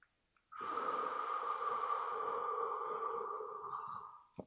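One long, deep breath rushes out close to the microphone, steady for several seconds before trailing off.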